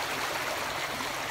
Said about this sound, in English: that amazing creek hidden behind me